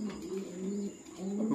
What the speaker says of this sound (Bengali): এখানে আছে গোল্লা কবুতর